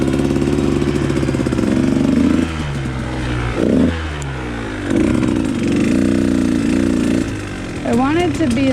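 A KTM 150 XC-W two-stroke dirt bike engine running close by, buzzing at idle and blipping up in short revs that fade and return, with people talking over it during the pauses.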